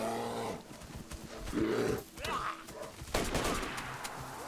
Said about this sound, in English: That's a real bear!